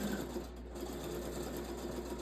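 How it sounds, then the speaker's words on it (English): A sewing machine runs steadily, its fast even stitching hum continuous and close throughout, with no talking. "I've got a new sewing machine and I've not learned the pedal yet"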